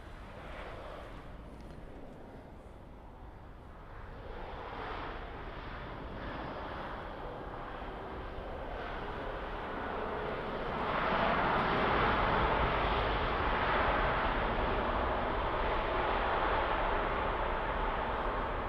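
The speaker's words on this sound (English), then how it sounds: "This is the Ryanair in from Dublin. It's the Max, wasn't it?" A Ryanair Boeing 737 Max 8 arriving from Dublin at Birmingham Airport makes a distant, broad jet roar that rises gradually and stays fairly faint over wind noise, growing louder toward the end.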